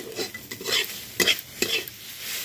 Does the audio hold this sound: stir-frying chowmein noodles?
yes